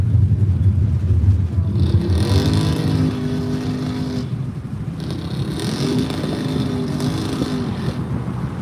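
An ATV engine races through a big tire pit at a Hay Days event, loud and close, with a sustained rumbling drone and two rising revving surges.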